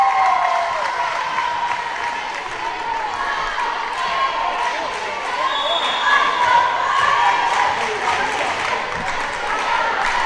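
A volleyball match crowd applauds and cheers in a gym, a dense, steady wash of clapping and shouting that holds for about ten seconds without a break.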